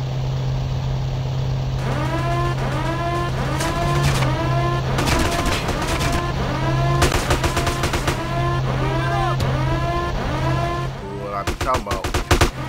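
Rapid automatic gunfire in GTA San Andreas, with repeated bursts of shots ringing out in quick succession over a steady engine hum, loud and continuous throughout.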